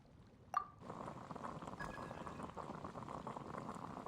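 Water comes to a boil in the video game Genshin Impact, with a brief bright clink followed by a soft, steady bubbling hiss that stays faint and even throughout.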